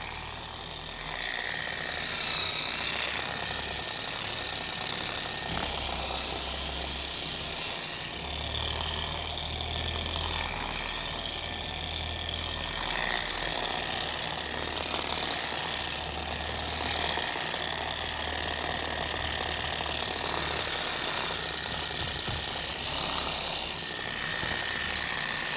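A polishing machine with a pad running over oxidized boat gelcoat, a continuous whirring drone with a low rumbling undertone, steady and close throughout with slight shifts in pitch.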